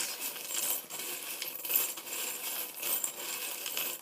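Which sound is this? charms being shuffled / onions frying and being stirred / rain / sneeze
charms being shuffled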